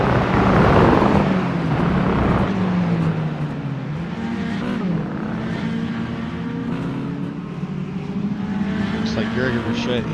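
Race cars in a 17-lap competitive race at an esports championship: several engines drone and rise and fall in pitch as they pass, with a commentator talking continuously over the action.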